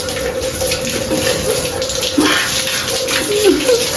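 Water pours continuously over someone's head as a punishment during a food-eating challenge, a loud steady splashing stream with a few gurgling surges and no clear speech.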